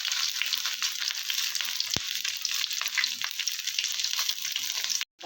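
Morola fish paturi wrapped in banana leaf sizzles on a clean tawa with a loud, steady, close hiss and crackle, broken by one sharp tap and a brief dropout near the end.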